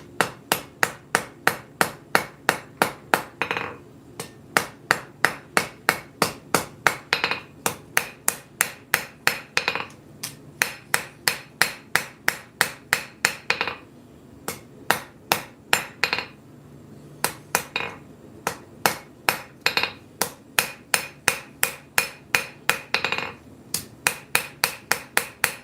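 Steel is forged with a hammer in a workshop, giving sharp ringing blows in fast rhythmic runs with short pauses between them. The strikes land close and clear throughout.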